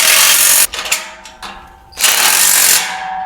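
A ratchet wrench with a 9/16 socket tightens nuts on the bolts of a trailer taillight bracket: loud close bursts of rapid pawl clicking, a few separate clicks in between, then another long ratcheting run.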